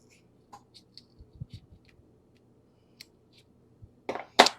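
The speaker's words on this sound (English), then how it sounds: "I always want to cut it open just to see what happened here" Scissors snip into a bad, undeveloped reptile egg, a few faint ticks and soft taps building to two louder, crisp cutting crunches at the end.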